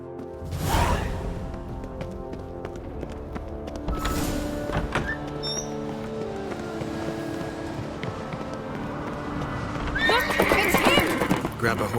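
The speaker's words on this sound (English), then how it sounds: "Grab a horse, we'll chase him down." Horses in the video game The Witcher 3 whinny and clip-clop, with a loud neigh near the start, hooves and thuds throughout, and a burst of galloping at the end, under game dialogue.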